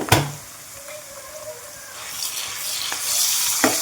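Ginger garlic paste frying in a pan with onions and green chillies for a chicken liver curry, a steady close sizzle with a few sharp stirring scrapes and clinks and no voices.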